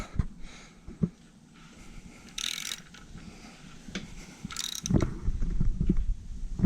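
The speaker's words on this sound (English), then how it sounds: "I'm going to try to crank it over, and we'll see what happens." An engine is cranked over by hand, producing ratcheting clicks, metallic clunks and grinding mechanical knocks up close. The motion stalls with a heavy thunk as the bottom end locks up.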